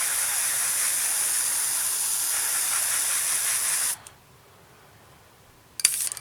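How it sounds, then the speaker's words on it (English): Airbrush spraying buff paint onto a 1/32 scale Wingnut Wings RE.8 model kit: a steady close hiss runs for about four seconds, cuts off, then a brief second burst follows near the end. "we're going to spray it with a bit of buff and see how we get on"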